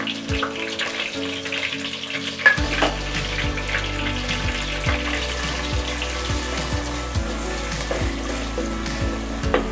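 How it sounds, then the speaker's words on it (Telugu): Onion paste and slit green chillies frying in hot oil in a pan for a small-fish curry, a steady close sizzle broken by repeated scraping stirs, with no talking. "ఉల్లిపాయ పేస్ట్ ని ఆయిల్ లో బాగా ఫ్రై చేసుకోవాలి"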